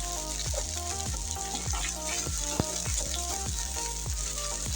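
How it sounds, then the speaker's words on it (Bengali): Ginger garlic paste fries with onions in oil, making a steady close sizzle broken by regular rhythmic scraping strokes of a spatula against the pan. "আদা রসুন পেস্টটা দিয়ে আমি ভালো করে পেঁয়াজের সাথে ভেজে নেব"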